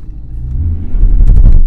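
A Skoda Superb drives on a wet road, its engine rumbling low and close as the wheels spin and the car surges forward, growing louder near the end.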